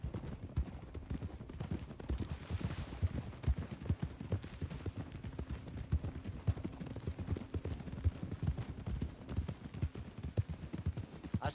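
A horse's hooves clip-clop steadily and continuously, close and moderately loud, a dense trotting rhythm with a brief snort or whinny-like rise early on.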